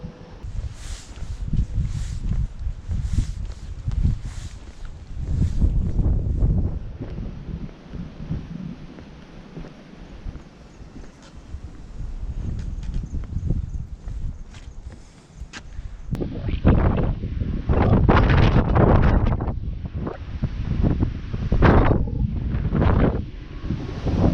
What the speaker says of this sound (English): Well, it's windy and blowy up here this morning